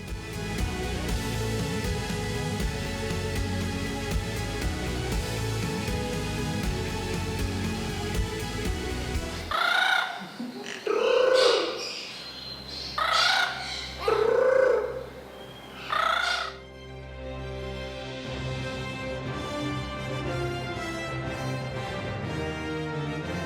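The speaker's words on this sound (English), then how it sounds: "Injured birds, they are all injured birds." Chickens and injured birds at an ashram bird shelter, a dense chorus of clucks and calls at first, then a quieter stretch with several loud separate squawks close by and a softer chattering flock returning.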